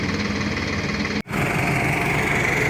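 A heavy tractor engine runs steadily nearby with a low rumbling drone while pulling out a stuck vehicle, briefly cutting out for an instant before resuming at the same level.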